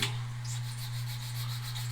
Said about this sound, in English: I'm going to hit it with some 180 grit sanding stick